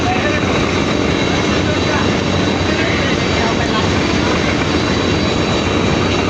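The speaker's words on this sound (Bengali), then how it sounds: "দেখতে পাচ্ছেন যে কি পরিমাণ থ্রাস্ট নিয়ে এগিয়ে যাচ্ছে সুরভি 7 লঞ্চ" The Surovi 7 passenger river launch running at speed: a loud, unbroken engine roar with dense low rumble and broadband wash, steady throughout, with no pauses.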